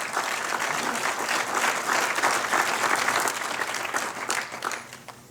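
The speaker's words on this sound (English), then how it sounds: "So again, a round of applause for all of them." Audience applause at the 2022 Boulder City State of the City address, a steady, dense wash of many hands clapping that holds for several seconds and then thins out toward the end.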